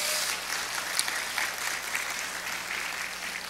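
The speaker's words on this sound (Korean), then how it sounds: "부부 찬양대 위에서 격려의 박수 해 주시기 바랍니다" A church congregation applauds after a choir performance at a Sunday service, a steady dense patter of clapping from many hands filling the room evenly throughout.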